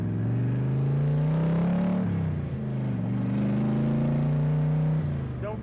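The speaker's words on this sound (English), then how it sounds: "This car is absolutely a blast to drive." A 1965 Shelby Cobra Factory Five replica drives along with a loud, deep engine rumble that rises and falls through gear changes, steady and close throughout.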